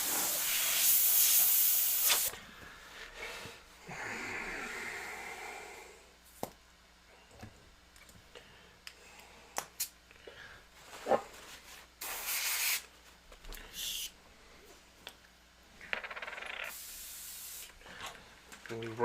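An airbrush sprays candy paint onto a snake design, with a loud hissing burst at the start followed by shorter intermittent bursts of spray, quieter rubbing and handling noises between them.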